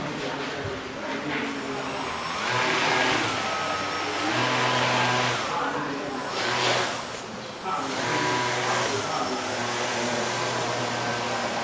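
A small electric motor drives a model fighter jet plane with a steady whirring drone that swells and dips slightly, close and continuous, with faint voices in the background.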